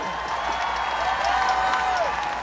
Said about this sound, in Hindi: मेरे दोस्तों के लिए जोरदार तालियां